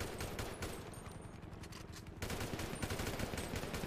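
Sustained automatic gunfire in a shooter video game, aimed at a helicopter, rattles continuously and loudly, with dense rapid bursts that briefly thin out before surging again.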